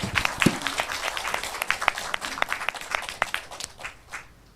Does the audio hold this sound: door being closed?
no